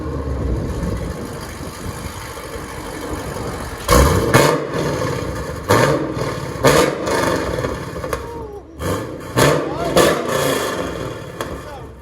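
A 2010 Chevy Camaro SS with a 6.2L engine and CORSA exhaust mufflers idles with a deep rumble, then gives about five short, loud revs, while people talk nearby.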